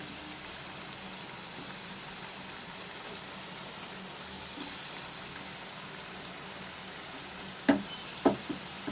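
Small batch of potatoes frying in hot oil for chilli potato, a steady soft crackling sizzle throughout, with a few sharp clinks of stirring near the end.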